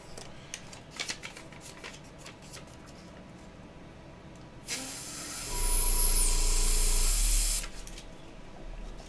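Airbrush sprays paint onto a 1/350 Polar Lights Enterprise Refit model kit, a steady loud hiss lasting about three seconds, with quieter handling clicks before and after.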